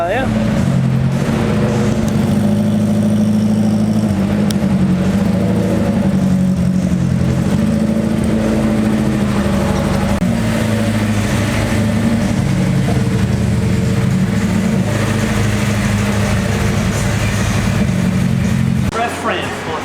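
Several cars roll in and idle together, a loud, steady low engine rumble with occasional revs lasting throughout. Voices talk over the engine noise.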